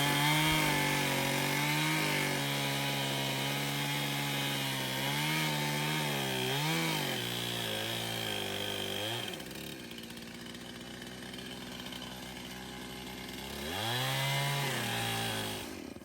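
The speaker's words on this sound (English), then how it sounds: "Now I'm cutting a spot for the support board to go up to the floor joist." A motorized saw cuts wood for a support board on a deer stand, its whine rising and falling as it bites and eases through the board, loud and close with a brief lull before another cut.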